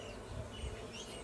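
Honey bees drone steadily on an open hive frame with capped and uncapped brood, a close, quiet, continuous buzz with no voices.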